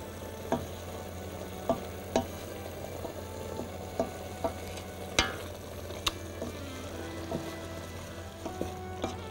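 Green spinach sautéing in a pan, with a steady low sizzle under repeated sharp clinks and scrapes of a utensil stirring, fairly close and moderately quiet.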